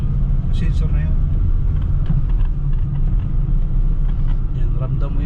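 A 2017 Hyundai Accent 1.4 with low power, recently fitted with a new ignition coil, pulls away during a road test with a steady low engine and road rumble heard from inside the cabin, loud and constant beneath someone talking.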